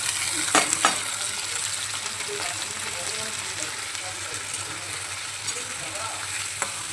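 Chopped potatoes and onions fry in hot oil with a steady, close sizzle, opened by a couple of sharp clinks and pops before the hiss settles into an even crackle.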